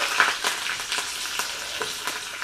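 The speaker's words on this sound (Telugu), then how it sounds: "ఆయిల్ కాయిందండి కొద్దిగా ఆవాలు కొద్దిగా జీలకర్ర కరేపాకు" Mustard seeds, cumin and curry leaves sizzle in hot oil for a red radish sambar tempering, a close steady hiss punctuated by sharp crackles and spatters.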